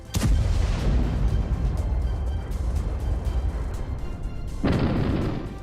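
A heavy, sustained rumbling blast from an Israeli airstrike hitting a building in Deir al-Balah, Gaza, loud and close, with a second sharp burst near the end.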